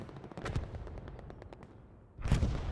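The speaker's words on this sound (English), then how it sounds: "Was an MG until that beautiful artillery hit comes down." Machine gun bursts rattle through a competitive multiplayer war game match, then a heavy artillery shell crashes down with a loud broadband impact near the end.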